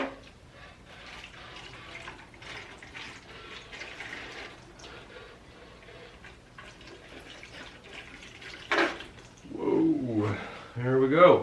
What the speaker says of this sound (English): I want to get this Tembaku poured on carefully, and the foot is now fully waxed, so it should be protected, and we'll just let the excess run off.